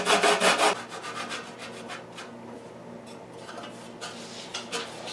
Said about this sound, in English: We're going to grind the zest of a couple of limes.